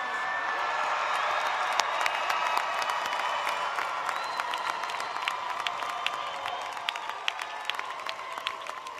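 A large crowd at the Rice University 2025 commencement ceremony applauds the Martell College degree candidates, a dense, sustained roar of clapping with occasional sharp nearby claps and light cheering, steady for the whole stretch.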